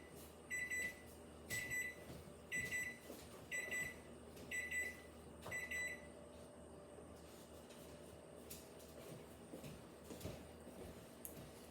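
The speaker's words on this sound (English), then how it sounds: "just a second, I have to go stop the timer." A kitchen timer goes off in a home kitchen during meal prep, six evenly spaced bursts of high beeping, then stops, leaving faint background noise.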